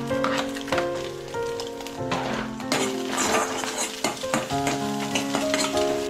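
Chilli and ginger frying and being stirred in a pan while cooking noodles for a homemade Chinese-style dish, with steady loud sizzling, scraping stir strokes and clinks of a utensil throughout.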